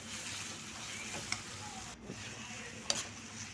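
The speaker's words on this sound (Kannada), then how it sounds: "ಹಾಗೆ ಇದು ಎಣ್ಣೆಯಲ್ಲೇ ಚೆನ್ನಾಗಿ ಫ್ರೈ ಆಗಬೇಕು" Chopped ridge gourd with tomato and onion stirring and frying in oil for a Kannada-style gojju curry, a steady low sizzle with a few sharp clicks of a spoon against the pan, no voices.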